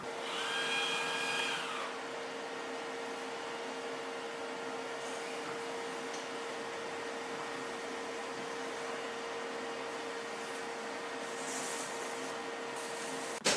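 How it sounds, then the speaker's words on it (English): An automatic lid-pressing machine runs with a steady, even mechanical hum and a faint whine that continues alone after a brief opening chirp. "Click the lid pressing instruction. The machine will perform the lead pressing action."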